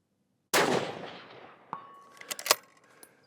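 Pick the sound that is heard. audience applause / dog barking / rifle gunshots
rifle gunshots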